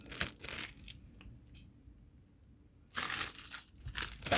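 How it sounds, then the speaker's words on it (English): Crinkly plastic rustling and crackling in two bursts as bandage scissors are taken out of a plastic packet, with a quiet pause between them, close up. "Let's take these out of the packet and see how they are."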